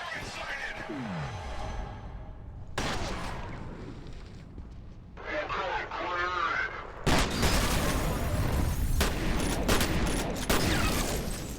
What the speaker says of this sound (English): Didn't realize that one had a particle cannon.